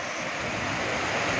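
A roadside waterfall on the mountain route from Guptkashi to Gaurikund gives a steady, broadband rushing roar that stays constant and fairly loud throughout, with no voices.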